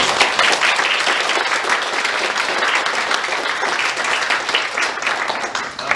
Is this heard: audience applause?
yes